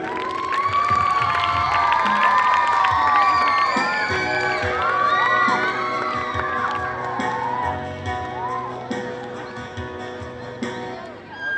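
An audience at a school performance cheers, whoops and claps in a loud, sustained burst, with excited children's shouts over the crowd before it gradually tapers off.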